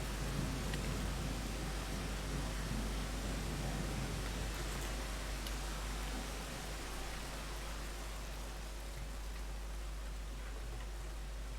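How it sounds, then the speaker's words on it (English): Steady heavy rain pours down in Rain World Downpour, a dense, even hiss with a low rumble underneath that keeps going unbroken throughout. "I'm just gonna wait in here until the fucking rain stops."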